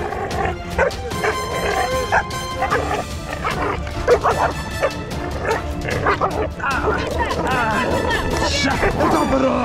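A Dutch shepherd puppy barks, yips and whimpers in quick, close, repeated bursts during a training session, while someone talks over it.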